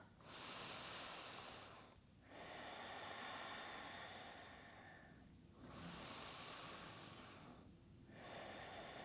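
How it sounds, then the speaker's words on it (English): Slow deep breathing during a seated yoga session for singers, several long breaths with brief pauses between, close and steady, with no talking. "taking a couple of deep breaths"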